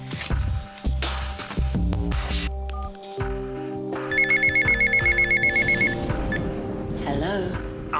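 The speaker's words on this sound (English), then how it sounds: "I'm sorry to phone you so late, Mrs. Winterbourne" A telephone rings late at night indoors, a repeated electronic trill pulsing in regular bursts after a stretch of loud music.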